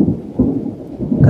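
Rumbling thunder heard outdoors at a ferry port, a low continuous roll with rain-like noise and no voices.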